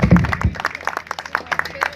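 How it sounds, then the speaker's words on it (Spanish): Scattered hand clapping from a small gathering welcomes railway enthusiasts, a few distinct claps with low talk in the background. "Les vamos a dar la bienvenida con un aplauso"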